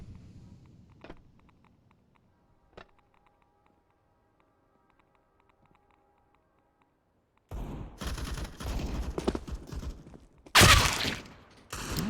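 Pistol gunfire in a Counter-Strike match on the Train map: a couple of faint isolated shots early, then a busy burst of sharp reports and clatter in the last few seconds, one very loud near 10.7 s.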